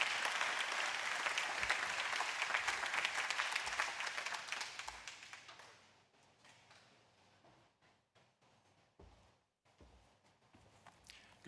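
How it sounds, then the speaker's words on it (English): Audience applause at a campus ribbon cutting ceremony in Stark County: a dense, steady round of clapping for the first several seconds that thins into scattered claps and a quiet room. "Can we get a round of applause for Mark Smalzik?"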